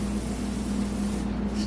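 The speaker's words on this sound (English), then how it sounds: "Spraying." Spray bottle misting water onto hair during a haircut, one sustained hissing spray lasting over a second, close and clear, with a faint rubbing tail.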